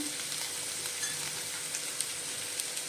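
Mixed vegetables for Bhogichi Bhaji sautéing in hot oil in a pan, a soft, continuous sizzle with faint crackles and occasional light pops, fairly quiet and with no voices.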